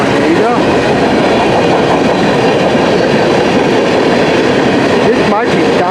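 A CN M399 westbound freight train rolls past in Port Huron, Michigan, a loud, close, continuous rumble of wheels and railcars with rhythmic clacking over the joints.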